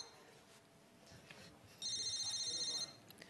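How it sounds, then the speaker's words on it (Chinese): A mobile phone rings for about a second in a fast warbling electronic trill, fairly loud against a quiet room after muffled talk and faint background murmur. "你电话？ 谁电话？ 你电话。"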